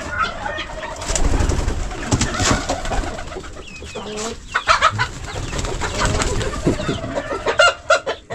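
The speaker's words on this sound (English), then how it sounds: "Our pigeons are increasing every day." Pigeons kept at a home alongside other fowl, giving cooing and clucking calls that recur close by throughout, with short louder bursts near the end and no talking.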